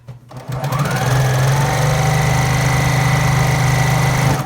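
A sewing machine stitching a custom water bottle cover starts up after a short pause and then runs in a fast, steady whir, loud and close, with no talk.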